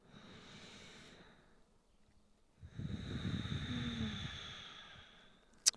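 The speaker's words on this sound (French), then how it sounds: "Tu viens simplement prendre 3 grandes respirations." Slow, deep breathing during a yoga session on a mat, with a soft inhale and exhale, a short pause, then a fuller, louder breath near the listener, with no talking.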